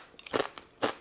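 Keto nacho chips made of pork rinds and cheese crunch close up in two or three crisp, loud bites with quiet gaps between them.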